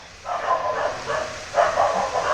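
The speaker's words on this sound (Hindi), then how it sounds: "कुत्ते बहुत भौंक रहे हैं बाहर" Several dogs bark outside in a quiet, deserted area, a steady run of repeated barks heard from a short distance, moderately loud and without talk over them.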